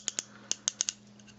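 Six sharp little plastic clicks from the ratcheting joints of a Transformers Generations Soundwave figure come in quick, uneven succession, close up over a faint steady hum.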